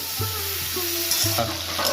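Cauliflower stem curry (chorchori) frying in a pan as it is stirred; a close, steady sizzle with scraping stirs over a low, pulsing hum.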